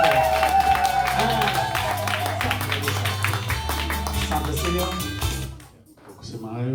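A crowd at a Catholic parish choir event applauds in a dense, sustained burst of clapping over background music and voices, then it cuts off sharply near the end.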